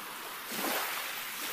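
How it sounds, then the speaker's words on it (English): Giant ocean waves at Nazaré, Portugal, give a steady broadband roar of surf that swells briefly in the middle, with wind rushing across the microphone. "how is it possible that only these gigantic waves occur here?"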